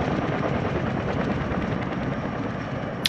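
Rotor chop and engine drone from a helicopter in a military video game, steady and fairly loud for the whole stretch, with faint gunfire-like crackle mixed into the constant roar.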